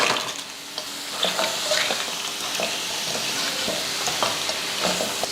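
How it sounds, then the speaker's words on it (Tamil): Half a kilo of crab stirred into a pan of frying spicy masala for crab fry: steady close sizzling with repeated scraping, stirring knocks throughout. "மசால் கலந்ததுக்கப்புறமா இப்போ இதில் நண்டு சேர்த்துக்கலாம் அரை கிலோ நண்டு"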